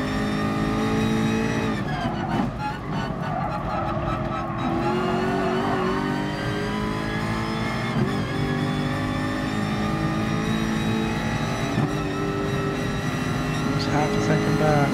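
Ferrari GR.3 race car engine in Gran Turismo Sport, a steady loud roar with shifting revs and brief tire squeal, running continuously under a voice talking throughout.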